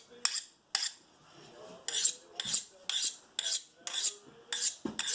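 A steel knife blade is drawn freehand along a sharpening rod in a steady series of about ten bright metallic scraping strokes, each a short rasp with brief pauses between, close and clear with no talking.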